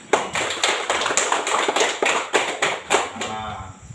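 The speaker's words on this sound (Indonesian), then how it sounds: "Semuanya tepuk tangan." A class of primary school pupils claps hands together in a classroom, about a dozen loud, irregular bursts of clapping over four seconds before fading out.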